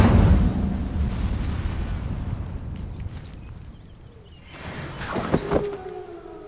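An Incendio fire spell is cast in Hogwarts Legacy, a loud rushing roar of flame that fades, followed by a sharp burst with crackling and bright magical tones near the end.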